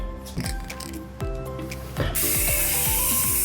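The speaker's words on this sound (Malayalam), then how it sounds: "നമ്മൾ ചട്ടിയിൽ സ്പ്രേ പെയിന്റ് ചെയ്യാൻ പോവാണ്" Spray paint is applied to a plant pot, starting with a few quiet clicking and rattling handling sounds before a loud, continuous aerosol hiss begins near the end.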